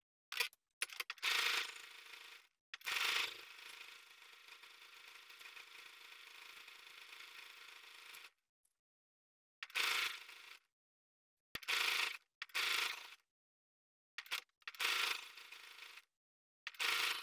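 A sewing machine stitches fabric, joining a garment's front lining: one long steady whirring run, then several short, separate bursts of motor and needle noise with silent pauses between them. No talking is heard.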